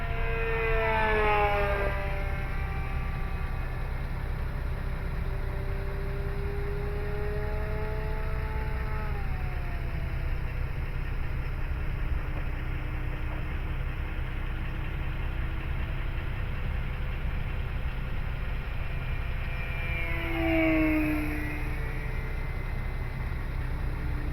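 An E-flite Decathlon RC plane makes full-throttle passes, its electric motor whine rising and falling in pitch like a Doppler sweep as it flies by, with a second pass near the end over steady background hum.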